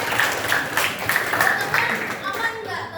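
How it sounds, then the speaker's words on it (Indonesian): Students at a junior high school in Depok clapping in a classroom, a fairly steady patter of applause lasting throughout, with voices mixed in beneath. "Tepuk tangannya mana?"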